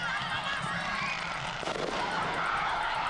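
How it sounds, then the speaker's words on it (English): Fireworks go off over a Friday night high school football game, with a brief crackling burst partway through that rises out of a loud, steady crowd and outdoor wash. "they got fireworks, so we'll watch this for a little bit"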